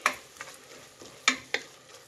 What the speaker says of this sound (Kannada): ಈಗ ಬಟಾಣಿ ಹಾಕ್ತಾ ಇದ್ದೀನಿ, ಹಸಿ ಬಟಾಣಿ. ಮಿಕ್ಸ್ ಮಾಡಿ.